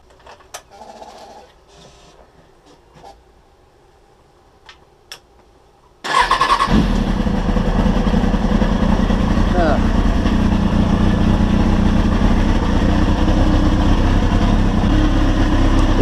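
A 2003 Kawasaki ZX6R motorcycle engine catches after a few quiet clicks and settles into a loud, steady, close idle that holds to the end.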